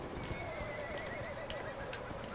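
In the online shooter Battlefield 1, a horse lets out a drawn-out, wavering whinny over a faint clatter of hooves, heard fairly quietly amid the game's background noise.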